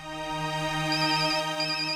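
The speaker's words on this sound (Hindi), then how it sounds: "ऑफिस से फोन है, मुझे जाना होगा।" Phone ringtone playing a steady electronic melody, loud and close, with no voices over it.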